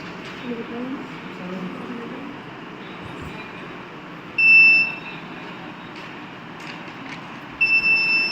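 An Arduino fire-alarm buzzer triggered by an IR sensor sounds two loud, shrill electronic beeps, one short and one longer near the end, over a steady background hiss.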